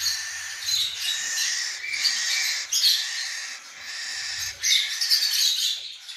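Cockatiels squawking around their nest boxes, a run of loud, harsh, repeated shrieks and calls close by, coming in bursts with brief dips between, no talking.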